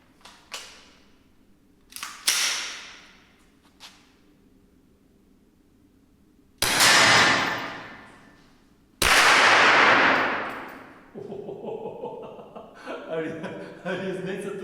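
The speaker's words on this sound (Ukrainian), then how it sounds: "Шість пострілів: три дозвук," Six sharp shots from a Kel-Tec SUB2000 rifle, three subsonic and three supersonic, crack at intervals, some followed by long rolling echoes, with quieter pops and a brief voice in between.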